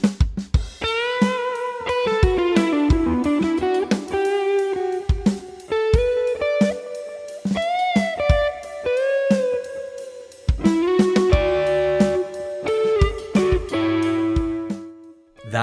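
Hesitant guitar improvisation over chord changes, a beginner's clumsy first try: uneven plucked notes and chords with stumbles, gaps and restarts, played alone at moderate volume.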